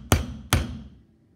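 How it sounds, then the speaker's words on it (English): Two sharp hammer blows drive nails into a wooden rebate butt joint held tight in a vise, each strike loud and close with a short ringing decay, spaced about half a second apart. "hammer them home."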